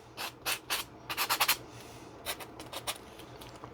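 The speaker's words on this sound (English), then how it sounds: "I'll take my sanding block, whichever I'm going to kind of rough a few areas up on the sanding block here" A sanding block rubs over foam or plastic parts of a 70mm Czech JAS-39 RC jet, roughing up areas in short back-and-forth strokes, close and dry, coming in irregular bursts with brief pauses.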